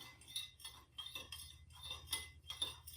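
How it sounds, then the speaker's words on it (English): A utensil stirring a lip balm mixture of butters and oils in a glass container, producing soft, repeated clinks in an uneven rhythm, close and quiet with no talking. "So you're just going to keep stirring and getting that cooled off to where we want it."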